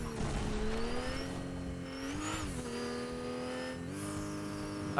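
A car in the Fortnite video game, its engine droning and revving steadily with pitch rising and falling as it accelerates, plus occasional tire squeal, continuous throughout at moderate level.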